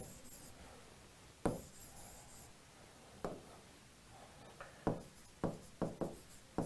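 Chalk or marker strokes on a classroom board during a lesson, scattered taps and short scrapes that cluster into quicker bursts toward the end, with no voice over them.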